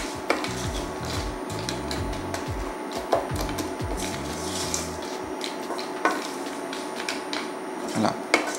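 Peanuts and sugar are stirred in a pan over gentle heat while caramelizing, giving scraping, rattling strokes with a few sharper knocks against the pan. A voice talks over the stirring.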